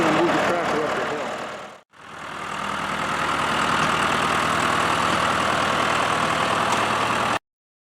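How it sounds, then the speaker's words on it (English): A John Deere 2750 farm tractor engine drives up a hill, a loud, steady diesel drone that cuts out briefly near the start and then runs continuously before stopping abruptly. "but first I'm going to move the tractor up the hill"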